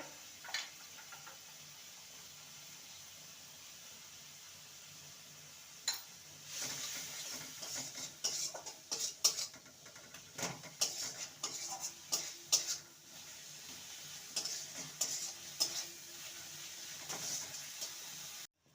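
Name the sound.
stirring mashed potato with spices for samosa stuffing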